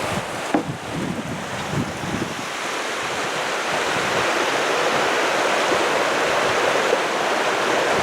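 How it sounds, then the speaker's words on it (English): Rushing water of mountain streams along the road to Mineral King in Sequoia country, a steady broadband wash with wind noise, heard from inside a moving vehicle, loud and continuous with no talk. "All these streams and rivers along the way."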